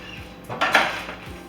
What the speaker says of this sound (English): we're gonna go ahead and open our pressure canner and get the cans out